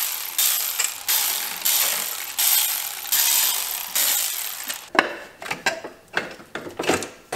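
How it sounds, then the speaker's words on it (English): A ratchet undoes 8 mm bolts holding the black cover on a 50cc GY6 scooter, with close, rhythmic bursts of clicking in repeated strokes, then shorter, choppier turns near the end. "You just undo all of these 8 mil bolts that hold this black cover on."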